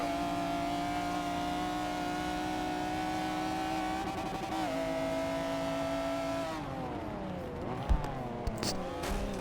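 McLaren F1 GT race cars at Monza in a racing video game: a sustained engine drone that holds steady, then downshifts and drops in pitch under braking, followed by the engine climbing again with brief tire noise.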